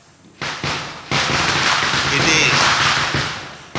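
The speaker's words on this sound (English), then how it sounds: "just like here, the firework is going on" Fireworks going off outdoors in Bombay, a dense, continuous crackle and popping with sharp bursts, loud and sustained throughout, with a voice speaking briefly over it.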